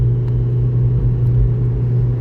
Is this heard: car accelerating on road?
yes